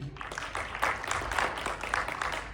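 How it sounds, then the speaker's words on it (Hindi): Applause from an open mic audience: a dense, steady wash of many hands clapping, fairly close and sustained for a couple of seconds with no voices over it. "बट आप सबके लिए जोरदार तालियां।"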